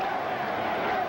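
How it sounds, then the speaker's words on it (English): A baseball crowd at a Mets game in Houston chanting "Let's go Mets," a distant, washed-out roar of many voices filling a big stadium, steady and continuous. "You hear the crowd chanting"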